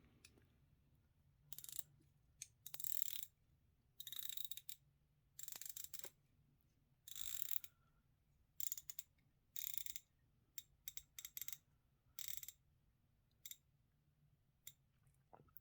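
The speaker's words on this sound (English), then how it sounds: "Let's check the bezel rotation." Bezel of a Thorn GMT dive watch turned in short bursts of crisp ratchet clicks, close and distinct, separated by quiet pauses.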